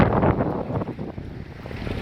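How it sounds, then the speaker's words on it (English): Strong wind buffeting the microphone in a steady roar with rising and falling gusts, broadband and loud throughout, beside a river in the Great Glen, Scottish West Highlands. "it's really gusty and windy out there"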